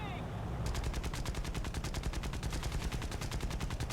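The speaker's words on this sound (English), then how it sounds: "the machine guns firing." Machine guns fire in War Thunder, a fast rapid-fire stream of sharp gunshots hammering steadily after a short lead-in of engine drone, loud and close.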